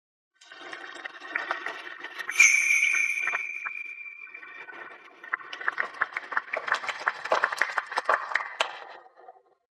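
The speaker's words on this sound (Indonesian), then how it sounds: "mari kita berikan tepuk tangan yang meriah untuk menyambut pengantin wanita kita" A wedding crowd applauds to welcome the bride. A burst of sound with a sustained tone comes first, then a stretch of dense, rapid clapping swells and fades, heard at a moderate distance.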